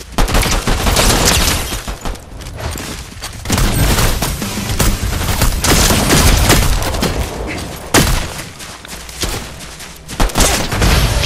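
Loud, dense gunfire in Fortnite, with rapid volleys and heavy shotgun-like booms that come in bursts almost without pause and stay close throughout.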